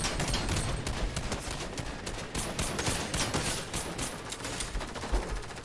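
Rapid gunfire rattles in a Fortnite Battle Royale solo match, with dense bursts of shots running continuously at moderate volume and no pauses.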